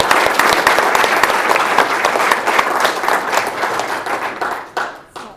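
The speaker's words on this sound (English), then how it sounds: "maybe just one more round of applause for all of you." An audience applauds the inductees of an honor society ceremony: loud, dense, sustained clapping from a full room that holds steady, then thins and fades out near the end.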